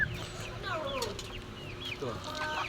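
Chickens cluck in short repeated calls close by, with talking going on alongside the clucks.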